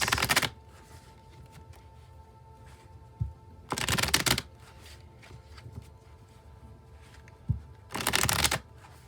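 A tarot card deck is shuffled in three crisp riffling bursts, each about half a second long, separated by quiet pauses and close to the listener.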